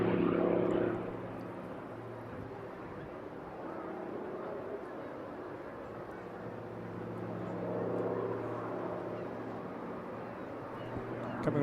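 A large aircraft makes a pass at the Eastbourne International Airshow, its steady propeller-like engine drone rising and falling as it circles, with a commentator talking over it throughout.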